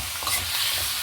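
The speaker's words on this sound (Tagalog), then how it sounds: "pagisa na po natin yung onion, ginger, garlic sa oil. And then next, lalagay na po natin yung salmon head." Onion, ginger, garlic and salmon head sautéing in hot oil for sinigang, a dense close sizzle with a stirring scrape near the end, brief and unbroken by talk.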